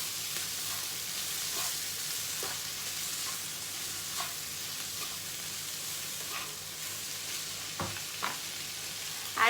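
Food being stirred in a sizzling frying pan, a steady close hiss of frying with occasional soft scrapes and taps of the utensil against the pan.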